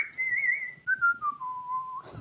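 A single person whistles a short descending tune, three sustained notes stepping lower, clear and close, ending with a soft thump.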